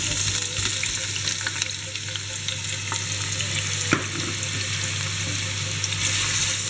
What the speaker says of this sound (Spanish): Y esto lo rehogamos un poquito.